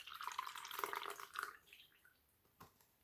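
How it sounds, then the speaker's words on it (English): Copper sulfate solution dripping through a filter, a close run of small liquid patters and splashes that fades after a second and a half, followed by a single faint drip. "We'll just have to wait for it to drip through."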